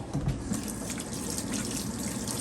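Meat being rinsed off under a running kitchen tap, a continuous close gush of water splashing into the sink for a couple of seconds with no talk.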